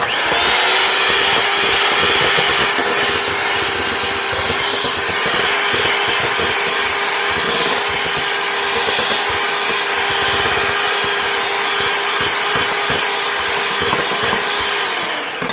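Electric mixer beating granulated sugar into vanilla cake batter, added one cup at a time: a steady, loud, continuous motor whir with a faint rattle of beaters, running alone without pause.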